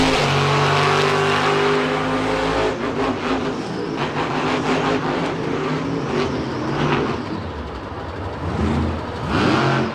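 A monster truck engine roars close and loud while driving, with a steady revving drone that breaks into rougher, noisier throttle bursts and then climbs again in pitch toward the end.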